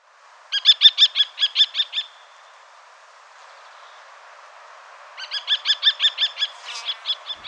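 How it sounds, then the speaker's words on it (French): A common kestrel gives two close, clear bursts of rapid, evenly spaced, shrill kee-kee notes, about eight each, separated by a few seconds of quiet. "Donc première espèce, le faucon cresserelle."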